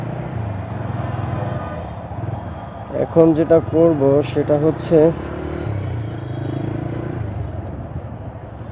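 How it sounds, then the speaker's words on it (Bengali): A TVS Raider motorcycle engine with a cracked, sputtering sound runs close by as a steady low hum throughout, while someone talks over it partway through. "কারণ ইঞ্জিনের সাউন্ড যেহেতু ফেটে গিয়েছে"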